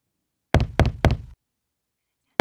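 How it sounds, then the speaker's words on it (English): Three firm knocks on Grandma's door in an animated cartoon telling of Red Riding Hood, struck by the wolf in quick succession, close and loud, followed by silence and a brief final tap. "When the wolf knocked on Grandma's door,"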